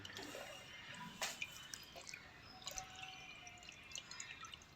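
Small baby prawns are swished and rinsed by hand in a bowl of water: faint, soft sloshing and light drips, close but quiet, with no speech.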